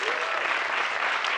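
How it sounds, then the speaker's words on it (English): Steady applause from an audience, a dense wash of many hands clapping at an even level throughout the short stretch. "an applause for the people working behind the scenes because they do a great job"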